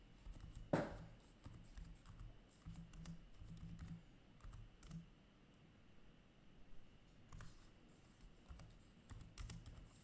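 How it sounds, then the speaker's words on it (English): Typing on a computer keyboard, a run of soft, quick, irregular key taps over a faint background hiss, fairly quiet and close throughout. "I make so many mistakes typing."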